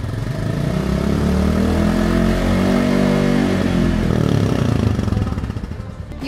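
A Royal Enfield Classic 350 BS6 motorcycle engine revs loud and close, its thumping note rising and falling steadily with no voices over it.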